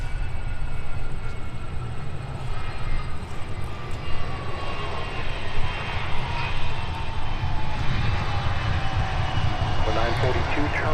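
Discover Airlines jet at Minneapolis–Saint Paul airport, a steady engine roar with a faint falling whine, holding loud and continuous throughout.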